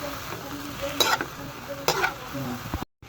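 Vegetables tossed in a hot wok for pancit canton, a steady sizzle broken by brisk scraping and clanking strokes of a spatula against the pan, close and continuous, ending in a sudden cut.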